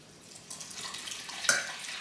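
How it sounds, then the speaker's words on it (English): Water from a tap runs into a pan of washed red lentils, a soft, steady rushing pour that grows a little louder, with a brief clink partway through. "we're going to add 4 cups of water"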